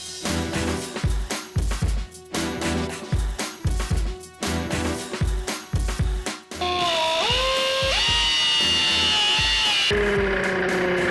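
A power tool cuts through an exhaust pipe on an AMC Hornet, first in short, repeated loud bursts with brief gaps, then in one sustained high whine near the end.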